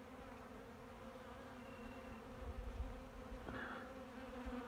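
Bees gather at a rock salt mineral spot beside an apiary watering area, a soft steady buzzing hum close by with a few louder passes from individual bees.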